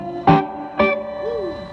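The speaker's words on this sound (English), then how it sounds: "Test out this reverb." An electric guitar plays through a Holmes Mississippi Bluesmaster amp with the reverb engaged: two plucked notes ring out with a spacious tail, then a faint bent note trails off.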